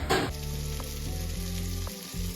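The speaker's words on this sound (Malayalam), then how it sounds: "ഒരു അടപ്പ് പാത്രം എടുത്ത് അടയ്ക്കാം കേട്ടോ ചെറിയ തീയിൽ ഇത് കിടന്നൊന്ന് വേവട്ടെ" Mackerel frying in a covered pan over a low flame, giving a steady close sizzle with soft crackles and no talking.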